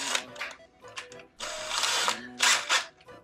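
Power drill reaming out two holes while tucking the A/C lines on an Acura RSX, in several bursts of whining spin that start and stop, close and fairly loud, with some low voice sounds between them.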